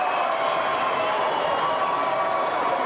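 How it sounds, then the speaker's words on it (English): Spectators at an amateur Australian rules football grand final in Tasmania roar and clap after a strong mark, a sustained, even crowd noise from the stands. "You can hear the reaction of the crowd."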